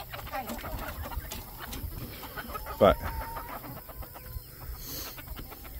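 Chickens cluck intermittently around a farm during morning chores as birds are fed, fairly faint, with a brief voice and other yard noises mixed in.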